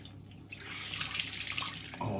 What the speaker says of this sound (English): Let me just empty this water out of here.